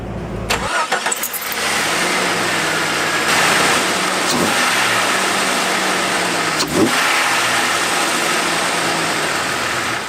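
A 2000 Jeep Cherokee XJ engine fitted with an aFe Momentum cold air intake cranks and catches, then settles into a steady, loud idle with a deep rumble and occasional small revs, close up.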